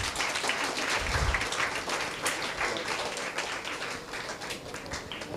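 Audience applause at an Independence Day prize distribution, a dense, steady patter of many hands clapping at moderate distance, sustained throughout without a break.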